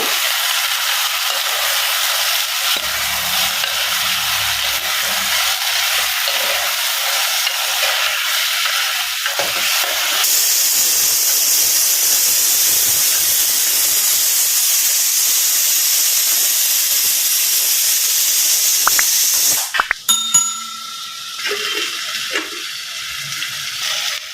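Vegetables such as drumstick and raw banana sautéing in a pan: a loud, constant hissing sizzle that brightens midway, then a few stirring clatters and a quieter sizzle at the end.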